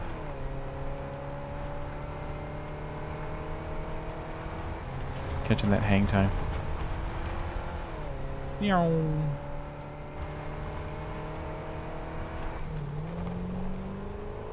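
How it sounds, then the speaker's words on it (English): Vehicle engine in the game Satisfactory, a steady droning hum with shifting tones and two brief revving swells, under a man's speech. "I like how much noise this car makes"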